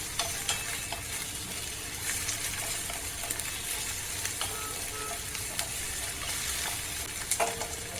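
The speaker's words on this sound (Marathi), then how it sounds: "एक छोटासा टोमॅटो घेतला मी बारीक कापून तोही आपण भाजून घेऊया कंटिन्यू परतून घेऊया" Finely chopped tomato and masala sautéing in a pan for a ridge gourd curry: a constant bright frying sizzle with soft scraping and tapping from a spatula, close up, with no voices.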